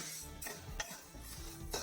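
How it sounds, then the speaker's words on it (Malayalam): Ingredients for payasam are stirred as they roast in a pan, a spoon scraping and pushing them around in quick, close strokes over a soft, faint sizzle. "ഇത് വറുക്കാൻ നേരത്തെ ഇളക്കി കൊടുത്തോണ്ടിരിക്കണം ഇതുപോലെ"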